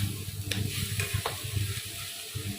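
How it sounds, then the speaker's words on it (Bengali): Ground spices frying in a pan, a moderate sizzle with rhythmic stirring scrapes and a few sharp clicks, close and steady. "এটা একটুখানি ভাজা ভাজা করে নিচ্ছি"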